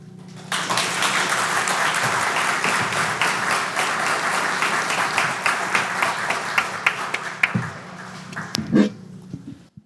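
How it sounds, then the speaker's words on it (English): An audience claps after a talk: a sustained round of dense applause that starts abruptly, thins into scattered claps and ends with a few louder claps. "And again, another round of applause for Neil, guys."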